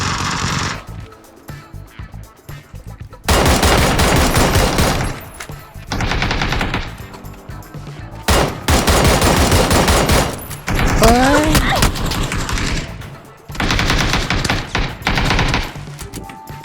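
Sustained bursts of automatic gunfire from the battle royale game PUBG, loud and close, coming in several long volleys separated by short pauses, with faint voices in the quieter gaps.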